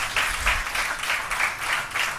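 A church congregation claps together in praise, a steady, rhythmic beat of many hands at a brisk even tempo, fairly close and with no talking.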